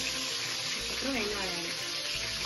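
Curry leaves hitting hot oil for fried rice, a steady sizzling hiss throughout with a voice speaking over part of it.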